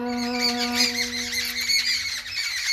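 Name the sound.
birds chirping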